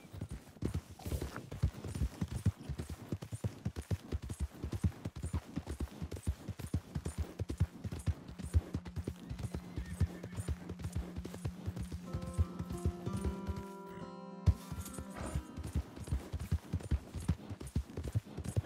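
Steady horse hooves clip-clop at a trotting pace throughout in the video game Red Dead Redemption 2, with a brief burst of musical tones near the end.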